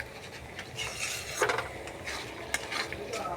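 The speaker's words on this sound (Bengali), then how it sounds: "বারবার খুন্তি দিয়ে নাড়াচাড়া করতে হবে।" Banana flower mash for a mocha bharta, stirred with a spatula in a wok. It gives a soft continuous scraping and shuffling with a few brighter scrapes and a faint sizzle underneath, fairly quiet and close.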